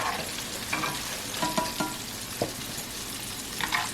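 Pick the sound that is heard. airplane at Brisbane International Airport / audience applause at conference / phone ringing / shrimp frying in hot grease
shrimp frying in hot grease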